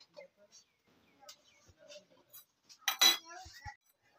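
A metal stand set down inside a pot of sand preheated on the stove for baking a cake, giving a brief loud clink and rattle of metal against metal, with softer handling knocks before it.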